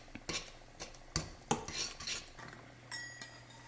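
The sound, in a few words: stirring matcha into berry oats with a spoon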